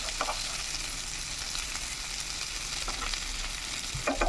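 Butter garlic chicken frying in a pan over a medium flame gives a steady, soft sizzle close by, with a few faint clinks near the start and end and no talking.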